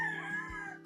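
A Moneymaker Dome gamefowl rooster crows in a single short, close, clear burst.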